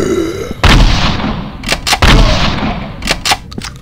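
Loud shotgun blasts in a Resident Evil game: one heavy boom, then a second big shot a moment later, with several sharper cracks and impacts scattered around them, all without talk.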